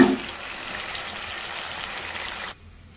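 Water is poured into a sauce for cabbage Manchurian cooking on high flame, a steady splashing pour lasting about two and a half seconds and then stopping abruptly.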